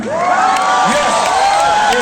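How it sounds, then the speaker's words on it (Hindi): A close, lively crowd cheers and whoops continuously, voices rising and falling in overlapping shouts with only faint clapping mixed in. "लोगों ने तालियां क्यों बजाई?"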